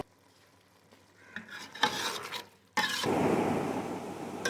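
Yogurt (dahi) being stirred into keema in a pan: soft scraping and rubbing strokes build up, then a sudden louder, steady sizzle takes over near the end, with no voices.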